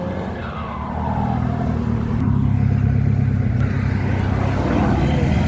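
A Ford Mondeo ST pulling away from the Phoenix Inn on New Year's Day, a loud engine roar building and holding steady with a faint tyre squeal early on.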